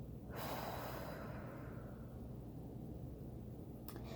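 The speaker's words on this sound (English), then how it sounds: "Deep breath out." A person takes one deep, slow breath out during a calm classroom breathing exercise. The exhale is soft and airy, close to the listener, and fades over about a second into quiet room tone.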